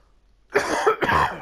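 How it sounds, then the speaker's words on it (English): A single person coughs twice in quick succession, close and fairly loud, after a brief quiet start. "I got a cough."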